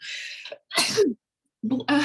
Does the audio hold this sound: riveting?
no